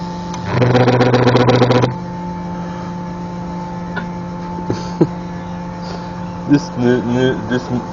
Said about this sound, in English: this compressor is absolutely going dead with my new airbrush